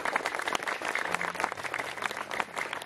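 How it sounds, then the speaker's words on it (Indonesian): Loud, continuous applause from a group of students in a morning inspirational class, dense clapping throughout with a faint tone underneath. "Tepuk tangan untuk kalian semua yang hebat, yang keras."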